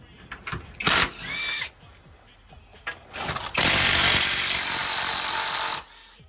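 Two 14mm bolts are removed from the rear of a Miata subframe. Close, loud mechanical whirring comes first as a short burst, then as a longer sustained run, with quieter clanks between them.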